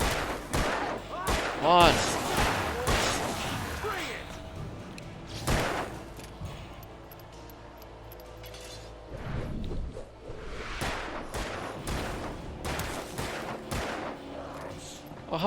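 Gunfire in Alan Wake on Nightmare difficulty, several sharp loud shots spaced irregularly, mixed with whooshes and thuds, while a player talks over the action.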